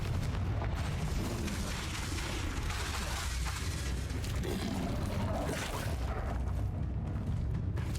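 Fiery spell explosions from the Confringo curse in the PC game Hogwarts Legacy, a dense run of booming blasts and rumbling bursts that fills the whole stretch at steady loudness.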